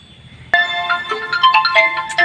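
A phone ringtone for an incoming call starts abruptly and plays a loud, close melodic tune of quick bright notes, with no voices over it.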